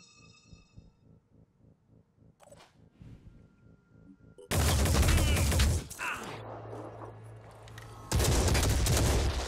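Loud bursts of weapon fire in the tactical game Phoenix Point, preceded by quieter rhythmic mechanical pulsing, then two heavy sustained volleys with a low droning hum between them.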